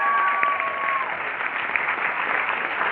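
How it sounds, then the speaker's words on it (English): Continuous audience clapping at a multicultural leadership day opening session, fairly loud and even for the whole short stretch, with a brief tonal whistle near the start. "So let's give a round of applause for Mr."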